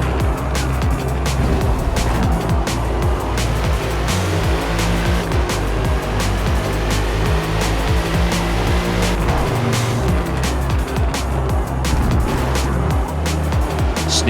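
A BMW M8 GTE race car sliding sideways with almost no grip on the Brands Hatch circuit, its engine roaring loud and steady throughout as the tires squeal.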